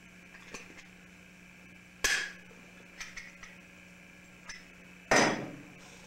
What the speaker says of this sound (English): Take your pop rivet gun and pop rivet in place.